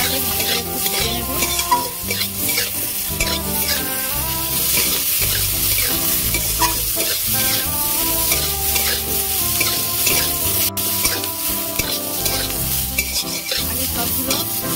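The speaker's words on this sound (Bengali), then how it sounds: "আদা দেব, শুকনো লঙ্কা, কাঁচা লঙ্কা, পেঁয়াজ, টমেটো, এইগুলো আমি একসাথে ভালো করে একটু ভেজে নেব।" Ginger, dried and green chilies, onion and tomato fry together in a pan for a Bengali fish kalia, with a loud continuous sizzle and repeated scraping stirs of a spatula against the pan.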